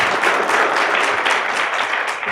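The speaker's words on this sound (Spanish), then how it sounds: "Por favor, un aplauso para él." Audience at an urban mobility seminar applauding a speaker, a full, even burst of many hands clapping for a couple of seconds, fairly close and loud.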